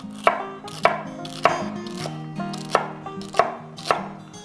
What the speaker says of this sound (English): I got plenty of time to cut up my celery